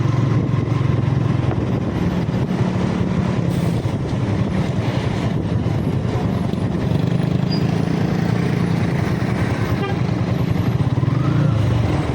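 A bus roars at full throttle on the road toward Medan, its loud, dense engine and road noise running continuously and steadily from start to finish.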